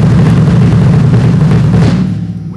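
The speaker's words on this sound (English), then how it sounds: "which is sliding your foot on the pedal, starting low and sliding, a sliding motion" A bass drum is played with fast double strokes, the foot sliding along the pedal, giving a loud, dense run of low thumps that fades out at the end.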